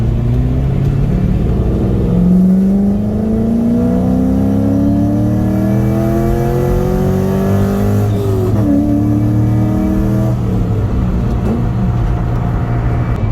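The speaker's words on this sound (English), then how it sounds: "let's see how she runs. Little second gear rip." A car engine, recently repaired for a valve spring problem, revs hard in second gear, its pitch climbing steadily and loudly, dipping briefly at the shift point and then pulling on as a sustained close-up roar.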